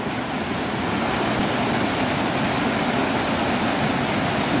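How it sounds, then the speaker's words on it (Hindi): Waterfall in a hidden green spot near Mumbai, a steady, loud, broadband roar of falling water filling the whole stretch without a break. "ये रहा वाटरफॉल"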